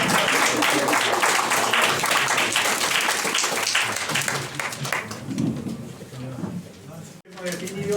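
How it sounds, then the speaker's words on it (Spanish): Applause from a class audience during a watershed-planning diploma course session, loud, dense clapping that gradually thins out and ends, with voices talking underneath. "Un aplauso."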